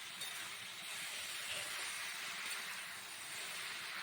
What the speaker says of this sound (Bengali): এবার পালং শাকটাকে দিয়ে দিলাম